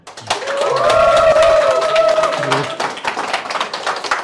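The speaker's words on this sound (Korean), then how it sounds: "큰 박수로 우리 박정주 박사님을 모시겠습니다" An audience at a talk bursts into applause to welcome a speaker onstage, a loud, dense clapping that swells and then tapers off over several seconds.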